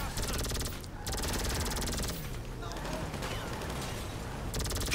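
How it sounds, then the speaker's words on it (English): Automatic gunfire in GTA 5 rattles in continuous rapid bursts, loud and close, filling the whole stretch with only a brief gap, as a player voice talks over it. "Shoot the gun."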